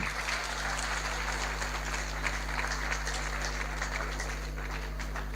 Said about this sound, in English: Once again, a round of applause for KBSC.